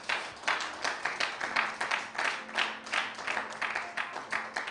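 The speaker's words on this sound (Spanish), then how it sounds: "Dale un aplauso al Señor." Church congregation applauding during a Spanish-language worship service, steady broadband clapping with rhythmic swells lasting several seconds, fairly distant and diffuse.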